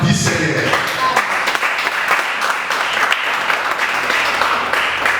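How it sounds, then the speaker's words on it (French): Applause rises from a congregation at a church service. The clapping is loud, dense and sustained, filling the room from start to finish. "Acclamez pour la gloire du Seigneur."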